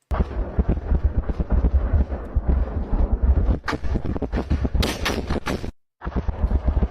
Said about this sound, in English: we can see a barrage get incredibly close to the Ukrainians